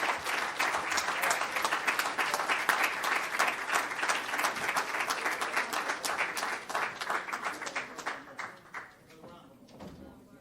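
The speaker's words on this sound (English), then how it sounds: "let's give him a round of applause" A Nation of Islam audience gives a warm round of applause to welcome new members, dense clapping that starts full and loud and then thins out and fades over about ten seconds.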